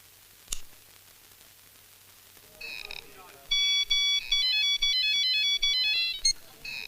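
A phone ringtone sounds in a Hindi Bollywood action-thriller film scene: after a quiet stretch with a single click, a bright electronic melody plays in repeated short bursts that stand alone, fairly clear and close.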